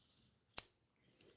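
A single close, crisp snip of scissors cutting a yarn tail on a crocheted cactus fidget toy, followed by a couple of faint clicks.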